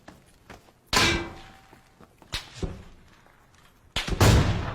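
In a PUBG match, a grenade goes off as a heavy boom, and other sharp blasts and thuds land close by across a few seconds against a quiet background.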